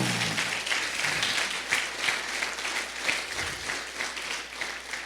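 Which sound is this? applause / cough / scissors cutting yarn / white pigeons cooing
applause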